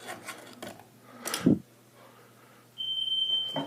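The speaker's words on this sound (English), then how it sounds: "Now we got the final smoke detector, which is in this bedroom over here." A household smoke detector sounds during a walk test of a home fire alarm system, its thin steady high tone starting abruptly near the end and holding after a few rubbing and knocking noises.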